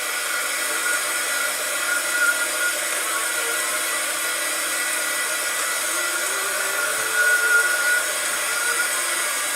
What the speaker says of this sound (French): je peux utiliser un pistolet à air chaud, le hot gun, et travailler l'embossage